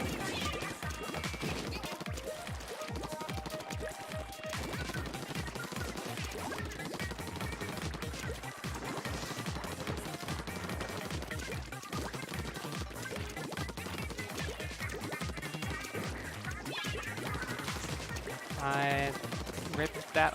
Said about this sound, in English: Someone's got a suction bomb rush.